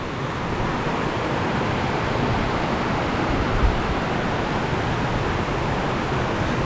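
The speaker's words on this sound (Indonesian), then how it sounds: "ini saya tepat berada di atas air terjun" Tiered waterfall at Lembah Karaeng in Gowa heard from the top, a dense, steady roar of rushing water, loud and unbroken throughout, no voices.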